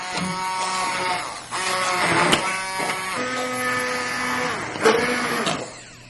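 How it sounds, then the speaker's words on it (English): Immersion blender puréeing soup in a pot, a loud continuous whirring motor whine that shifts pitch as the blade works through the liquid, running steadily for several seconds. "use my immersion blender"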